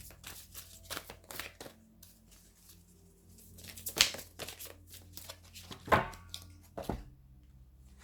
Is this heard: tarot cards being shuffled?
yes